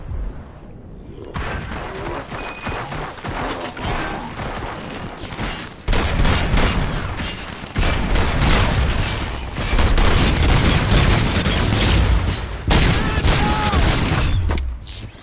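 Sustained heavy gunfire and booming blasts in RoboCop: Rogue City, a dense continuous fusillade of shots and explosions that grows louder after the opening seconds, with faint voices now and then under the din.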